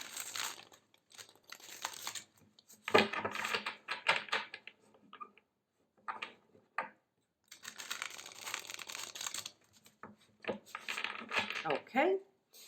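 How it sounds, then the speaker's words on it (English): Tarot cards being shuffled for a pick-a-card reading, giving bursts of crisp riffling and flicking close by, broken by short pauses, with no talk over it. "So let's shuffle in order to find out."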